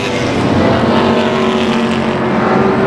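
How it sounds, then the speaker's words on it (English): Pro stock race cars roaring around Tucson Speedway in a main event, a loud continuous engine drone from several cars running close together with steady high-pitched whine and no letup. "Look at this racing."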